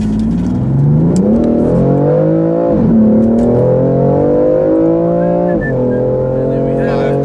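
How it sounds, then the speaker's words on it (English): A 2017 BMW M4 Competition pulls hard from a standstill toward 60 mph. The engine note climbs through rising revs with brief dips at each upshift, loud and close from inside the cabin, and faint voices can be heard. "Let's see how long it takes this car to get from 0 to 60 miles an hour."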